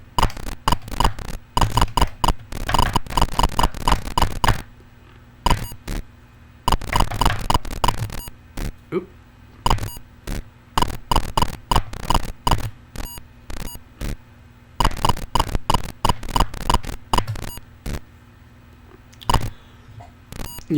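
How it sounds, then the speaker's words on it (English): Network traffic from an Atari running Plato-Term over a FujiNet device, heard as dense bursts of sharp clicking and chirping data tones in uneven clusters with short gaps, fairly loud and alone with no talk. "you can hear the different phases of network protocol exchange. You can hear the writes of the echo packets going back and forth"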